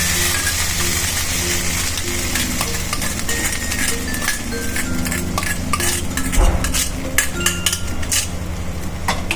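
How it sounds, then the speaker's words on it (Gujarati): Jeera rice with cumin and asafoetida is stirred gently in a pot with the flame off, steady scraping and clinking of a spoon against metal over a constant background hum, with a few sharper knocks later. "તો હવે એને હળવા હાથે આપણે ચલાવી લઈશું."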